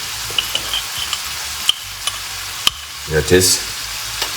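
Capers sizzle and fry in a pan alongside salmon, a steady near crackle with a brief louder burst of spatter, while someone speaks a few words over it.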